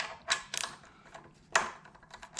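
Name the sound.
8 mm ratchet removing headlight guard screws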